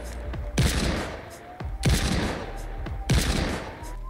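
Pistol gunfire from a video game weapon showcase cracks out in three sharp, loud shots spaced roughly a second and a quarter apart, each with a short ringing tail, with no voices.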